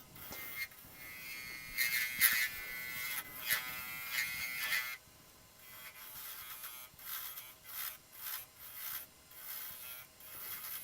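A carbide tool cuts a wooden rolling pin spinning on a wood lathe, making a rasping, scraping hiss that comes in uneven surges and pauses, fairly close and moderately loud, with no talking.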